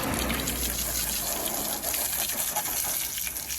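Steady rushing spray of water hitting a car tire during a car wash, continuous and loud throughout with no pauses.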